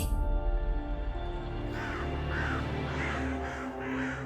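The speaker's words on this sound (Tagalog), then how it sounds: "nagdapo ang mga ibon sa bubong at maingay na nag-iingay" Several crows caw repeatedly in a noisy series, fairly close, over a steady background hum.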